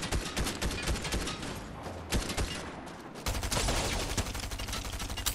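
Rapid gunfire rattles at a tank in Fortnite, dense bursts of sharp shots with a brief lull before a louder, heavier stretch of firing, no talk.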